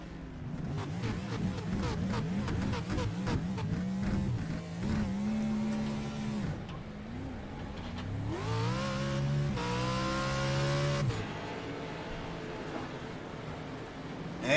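Whelen Modified race cars sort themselves into starting positions at Southern National, heard from inside the cone car as loud, close engines rumble and rev continuously with shifting pitch, over about fifteen seconds.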